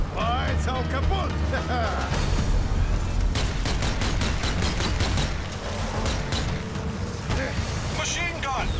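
Rapid machine gun bursts and scattered explosions in the zombie shooter Zombie Army 4: Dead War, loud and dense, with shouted voices over the firing.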